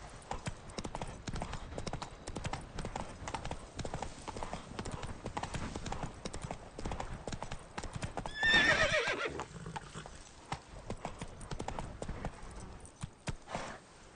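In The Witcher 3 video game, a horse's hooves clip-clop steadily at close range, broken midway by a loud neigh, with faint background game sounds throughout.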